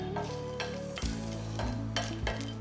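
Cardamom pods being dry-roasted in a pan for Kerala garam masala, close scraping stirs repeating every half second or so over a faint steady sizzle.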